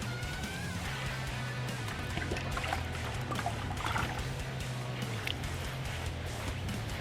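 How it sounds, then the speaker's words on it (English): Water poured from a sponge onto a wall to rinse off graffiti solvent, a steady close trickle and splash that runs continuously with faint background hum. "you want to take your water and your sponge, and basically you're just going to start applying and rinsing it off"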